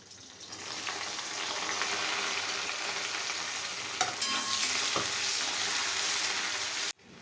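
Onions dropped into hot butter with bay leaves for a mutton curry set off a loud, continuous sizzle close up, with a utensil scraping the pan partway through, before the sound cuts off abruptly.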